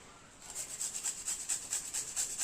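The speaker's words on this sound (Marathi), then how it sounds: "ती काकडी छान बारीक किसून घ्यायची बघा बारीक किसणीने मी किसती आहे" A cucumber is rubbed against a fine kitchen grater in quick, rhythmic strokes, producing a soft, repeated scratchy rasp at a close, modest volume.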